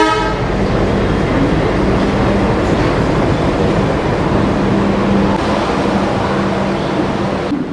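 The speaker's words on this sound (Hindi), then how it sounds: "अभी ट्रेन तो आ चुकी है।" The Sinhagad Express passenger train idles loud and close at an Indian railway station on the Pune to Karjat route. A steady engine rumble and hum holds throughout, with a brief horn-like tone and no talking.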